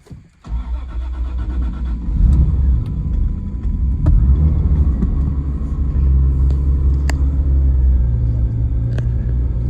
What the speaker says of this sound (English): If I start the car,